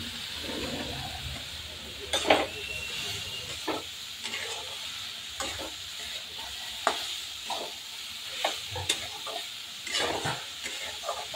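Soybeans sautéed with onion and tomato sizzle steadily in a pan, broken by intermittent spoon scrapes and stirring clatter, close and continuous with no talking.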